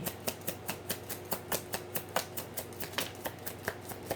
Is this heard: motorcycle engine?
no